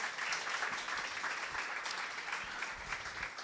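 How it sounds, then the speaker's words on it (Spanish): Audience applause in a café science talk on artificial intelligence, a steady wash of many hands clapping at moderate distance, sustained for a few seconds with no speech over it. "es el momento que se aplaude."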